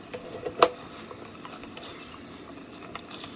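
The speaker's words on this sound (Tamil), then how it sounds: "தக்காளி ஆட் பண்ணிவிட்டும் நல்லா கிளறி விடணும்" Chicken curry with freshly added tomato being stirred in the pot, soft scraping and wet shuffling with one sharp clink of the spoon against the vessel, close but quiet.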